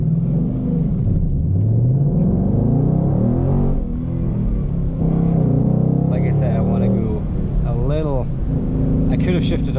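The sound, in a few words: Ford Mustang GT manual accelerating in first gear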